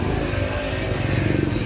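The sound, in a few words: Honda Wave 125 motorcycle engine running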